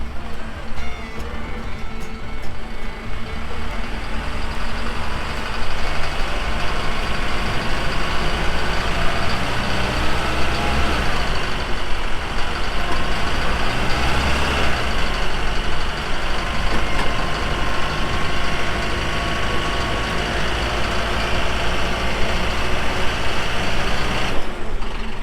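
A truck sunk to its differential in mud roars under sustained throttle for a long stretch, its loud, steady engine drone mixed with a rough churning that suggests wheels spinning, close and continuous.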